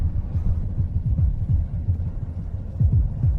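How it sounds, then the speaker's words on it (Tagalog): A fast heartbeat sound effect in a Filipino drama, a low, rapid thumping pulse over a constant deep rumble and hum, steady and close with no talk. "Mabilis ang tibok ng puso."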